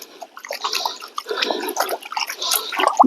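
Water sloshing and rinsing gravel in a gold pan, a continuous gurgling, splashing wash with small rattles, close and moderately loud.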